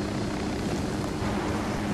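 A helicopter in the video game Ghost Recon Wildlands gives a steady, loud rotor and engine roar that fills the whole clip without pause.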